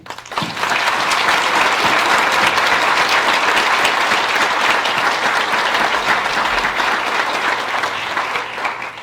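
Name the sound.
audience applause for students at awards evening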